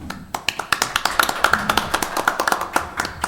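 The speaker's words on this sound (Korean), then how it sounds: "박수로 환영해 주시기 바랍니다" At a defense-materials industry forum, a modest audience gives scattered, distinct claps in welcome of panelists, individual hand strikes audible over a low room murmur.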